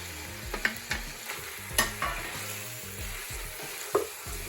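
Chopped tomatoes stirred into chicken frying in a pot, a soft sizzle beneath a few distinct clanks and scrapes of a spoon against the pot, close and quiet.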